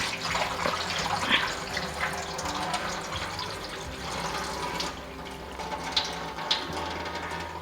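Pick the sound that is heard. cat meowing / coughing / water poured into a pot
water poured into a pot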